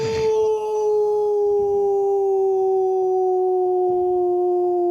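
People imitate wolves with long, sustained, loud howls that slide slowly downward in pitch, several voices blending into one drawn-out wail, close up.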